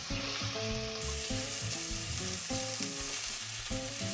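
Pork hits oil in a hot pan and sizzles steadily and loudly throughout, with music playing underneath.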